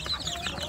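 Young native village chicks peep in a quick burst of high, thin chirps, close and clear over a soft background.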